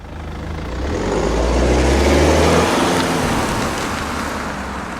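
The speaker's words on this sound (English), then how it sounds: "now let's go for a drive in the 2013 BMW 520d" Road noise from a 2013 BMW 520d with 180,000 miles, heard while driving: a broad, steady rushing hum that swells and then levels off, continuous and fairly loud with no voices.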